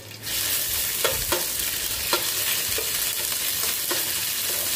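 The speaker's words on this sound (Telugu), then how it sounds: "ఆయిల్ బాగా కాగిపోయిన వెంటనే 1 tablespoon జింజర్ గార్లిక్ పేస్ట్, దీనిలో పచ్చి స్మెల్ పోయేంత వరకు కూడా బాగా వేయించుకోవాలి" A tablespoon of ginger garlic paste frying in well-heated oil for fish curry, giving a loud, continuous close sizzle with a few soft stirring scrapes and no talk.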